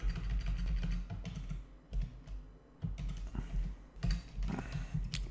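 Fingers type on a computer keyboard with a quick, uneven clatter of keystrokes, close and continuous, broken by a few brief pauses.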